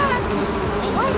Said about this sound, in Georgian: ფუტკრები ძალიან გაგვიბრაზებია